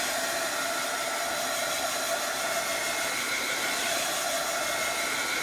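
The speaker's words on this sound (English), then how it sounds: "I'm going to set them with a heat tool just to make sure they're good and dry" A heat tool blows hot air to dry freshly stamped ink on a Bible journaling page, a loud, steady, close whooshing drone that holds level from start to end with no voices.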